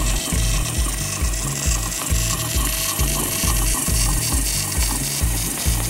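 A working lever on a 1/12 scale model prop box clicks in a steady ratchet-like rhythm, regular mechanical ticks repeating close and loud without speech.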